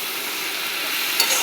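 Leafy greens (kalmi shaak) frying in a pan with turmeric and chilli, a close, steady sizzle and hiss that holds evenly throughout with a small clink at the very end.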